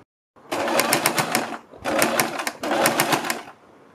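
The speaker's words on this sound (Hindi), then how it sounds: "इसके बाद हम इसके ऊपर यहाँ पर सिलाई लगाएंगे" Three loud, close bursts of sewing-machine stitching, each around a second long with short pauses between, as a neck design is sewn onto a kurti.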